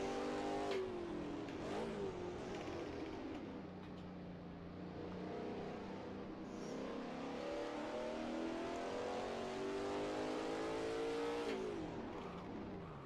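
Race car engine in a racing simulator game, a raw car with no ABS, traction control or aero, revving loud and steady through gear changes with rising and falling pitch, sliding onto dirt, alone with no talk.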